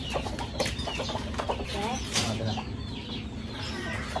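Hens clucking on a backyard egg and chick farm, a mix of overlapping clucks and chirps close by, with a person talking over them throughout.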